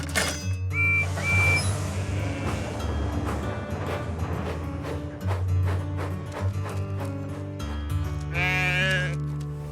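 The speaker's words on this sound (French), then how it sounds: "un ou deux moutons s'échappent du wagon" Sheep bleat repeatedly from a train wagon in a Thomas & Friends cartoon, over a busy background of music and rhythmic clatter, several calls rising high and wavering near the end.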